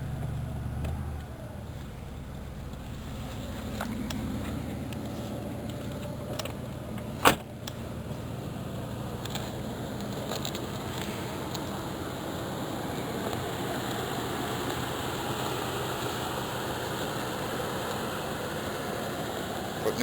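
Steady low idle of a 1988 Chevrolet Caprice Classic engine, continuous and close, with a single sharp click partway through and faint creaks and movement over the running motor.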